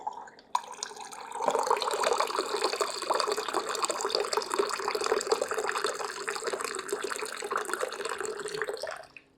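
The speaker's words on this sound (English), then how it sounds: "2 cups of water, a little bit of cold water, a whole bunch of hot water." Hot and cold tap water pours into a measuring cup for pizza dough, a steady gushing stream lasting several seconds after a brief start, close and moderately loud before cutting off.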